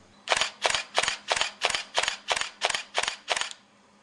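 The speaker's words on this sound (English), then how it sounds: "Continuous shooting for JPEGs remains 3 frames per second" Canon EOS 1000D digital SLR shutter firing in continuous shooting, ten crisp clacks at an even pace of roughly three per second, close and clear against silence.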